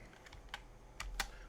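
Several crisp computer keyboard key presses land in quick succession, close and fairly quiet, with no talking.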